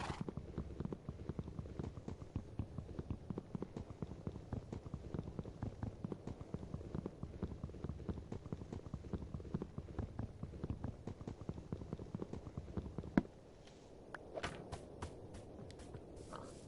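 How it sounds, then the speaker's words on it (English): A horse in the Minecraft video game, its hooves clip-clopping in a quick, steady rhythm for most of the stretch, then stopping abruptly before a few scattered faint sounds. "I got a horse"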